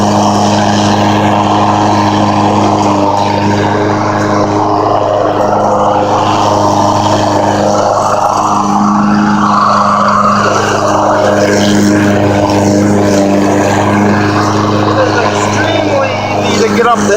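A self-propelled all-wheel drive push lawn mower runs close by, its engine giving a loud, steady drone that holds throughout with slight shifts in pitch.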